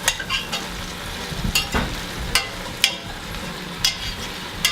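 Meat sears and caramelizes in a hot pan for chili verde, sizzling steadily and fairly loudly while regular scraping turns of a utensil strike about every half second to second, with no talking.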